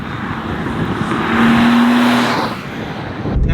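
A BMW Z3 roadster drives along with a smooth engine drone and road roar that swells in the middle as a steady tone rises, then eases off, with a brief rattle near the end.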